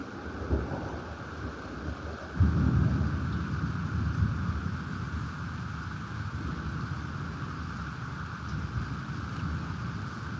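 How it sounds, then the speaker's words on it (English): Thunder rumbles low and heavy through a thunderstorm, a deep swelling roll over steady rain hiss and wind, with a stronger burst of thunder building partway through. "That's a pretty loud lightning, though."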